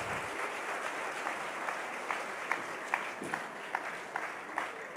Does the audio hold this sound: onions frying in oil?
no